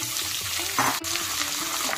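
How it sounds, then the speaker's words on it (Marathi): Continuous sizzling in a hot pan as chunks of boiled potato are stirred through the spiced tempering oil, with soft scraping and a brief clink partway. "आता या खमंग फोडणीमध्ये उकडलेला बटाटा घालायचा आहे"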